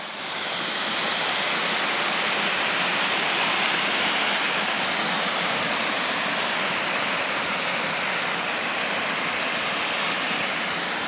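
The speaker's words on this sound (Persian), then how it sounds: "زیبایی آبشار که این آبی است که معمولا از داخل همین دره ها اینجا میآید" Snowmelt water pours down from a valley as a waterfall, a steady, loud, unbroken roar of rushing water with no other sounds.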